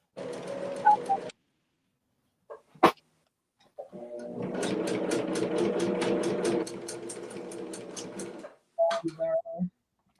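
A domestic sewing machine stitches fabric for a fabric basket: a steady, rapid run of needle strokes lasting about four seconds, with short mechanical bursts before and after, all fairly quiet and close.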